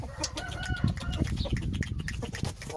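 Continuous rooster clucking and chatter fills the clip, with layered calls from nearby fowl over a steady farmyard background.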